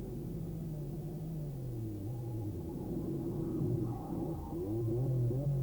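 Racing cars at the 1984 Spa 1000-kilometre endurance race in the Ardennes Forest, in heatwave conditions, give a distant, continuous engine drone with a rising and falling pitch as they pass, steady and fairly faint.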